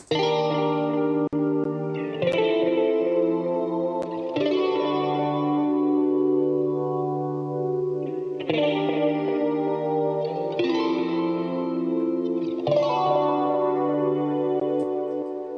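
Sustained electric guitar chords ring out with echoing repeats and a shimmering, washed-out tone, changing every couple of seconds, no voices.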